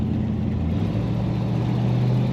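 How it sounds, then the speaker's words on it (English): A 1964 Chevrolet Impala convertible accelerates, its engine a steady low rumble that holds strong and even throughout with no voices. "Good acceleration from this car."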